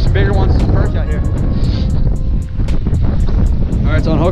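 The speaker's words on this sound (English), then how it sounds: "Super windy, guys" Strong wind gusting across a river during late-winter striper and white perch fishing, a heavy continuous rush buffeting the microphone, with some rhythmic ticking on top.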